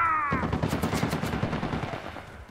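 Rapid automatic gunfire in Uncharted: The Lost Legacy, a dense rattling burst of close, loud shots lasting about two seconds that fades slightly at the end, with no talking.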